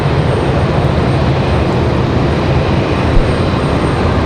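A Delta airliner in from Los Angeles passes at Raleigh-Durham International Airport, a steady, broad engine roar that holds loud and even throughout with no voices.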